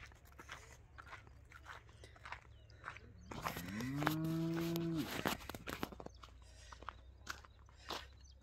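A cow gives one long, loud moo close by, set against steady background rustling and chewing-like crunches.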